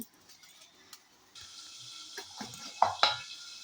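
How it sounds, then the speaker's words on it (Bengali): Fish fat sizzling as it is fried in a pan of oil, a steady bright hiss that starts suddenly partway through, with a couple of utensil clinks and stirring knocks near the end. "আর এখন মাছের তেলটা একটুখানি ভেজে দেবো মিঠির জন্য"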